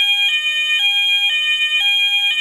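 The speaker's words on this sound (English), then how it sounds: "so fire level 2, which was a sounder there" Loud fire alarm sounder on a C-TEC Hush-Pro system giving its level-2 tone, a shrill electronic warble that pulses in a regular repeating pattern about twice a second, heard alone and close.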